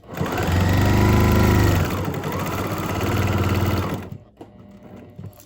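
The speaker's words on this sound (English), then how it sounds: "just keep stitching down to the other piece of Velcro" Sewing machine stitching down a strip of Velcro, a loud steady mechanical whirr in two runs that slows briefly, then stops into quiet handling clicks.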